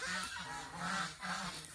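Domestic geese on a farm honk in repeated loud, nasal bursts, several calls overlapping in an uneven rhythm at close range with no talk.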